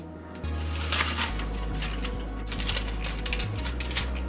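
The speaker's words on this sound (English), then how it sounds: "I'm going to remove the foil wrap." Foil wrap is peeled off a loaf of banana walnut bread partway through baking, giving close, crinkly rustles and scattered sharp crackles over a steady low hum.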